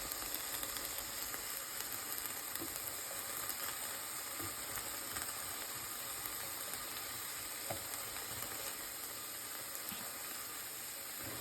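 Peppers and ham cook in a pan with a faint, steady sizzle and occasional small clicks and scrapes, low in level with no talking.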